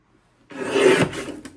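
A paper trimmer blade slides through light brown cardstock in one close, short rasping stroke, lasting about a second and heard alone in a quiet room.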